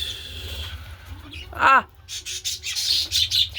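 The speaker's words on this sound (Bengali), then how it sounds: "তো এইসব আমার সমস্ত পাখি আমার হাতের আছে" Pet birds in a home bird room give a loud burst of chirps midway, followed by rapid high twittering and squawks, over a low steady hum.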